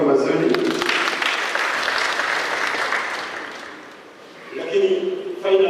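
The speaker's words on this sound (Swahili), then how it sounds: "Mpige makofi mazuri." An audience at a live event applauds, dense clapping fills the first few seconds, fades out, and a voice comes in near the end.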